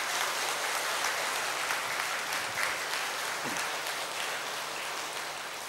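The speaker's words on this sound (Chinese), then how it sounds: "我真的要很感谢海印古寺的住持、传译法师跟全体的护法居士，我们热烈的掌声感谢他们。" An audience inside a temple hall claps in a sustained, dense round of applause, steady at first and gradually tapering off toward the end.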